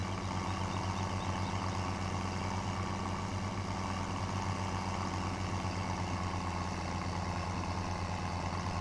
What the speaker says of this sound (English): I hear it working harder coming up the hill.